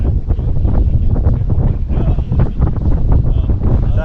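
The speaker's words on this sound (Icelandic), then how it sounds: "Það er vindur." Strong wind roars and buffets the microphone without a break at an Icelandic sailing competition, a loud low rumble with no voices.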